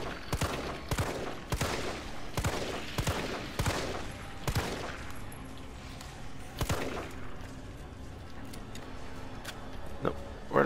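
A series of sharp gunshots in Resident Evil 3 Remake rings out at irregular intervals, about a dozen loud cracks in the first half that thin out and fade toward the end.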